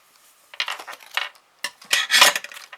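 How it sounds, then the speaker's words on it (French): Scissors scrape against a metal plate during paper crafting, making a few sharp, close grating bursts separated by brief silences, with the loudest scrape near the end. "Ah, mes ciseaux sur la plaque,"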